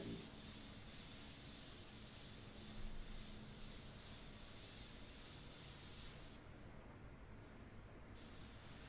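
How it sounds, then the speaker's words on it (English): An airbrush sprays paint onto a portrait in a continuous, close, even hiss that runs almost the whole time and briefly drops away near the end, with no talking. "if you are not using that face shield like I'm not right now, you can just spray away."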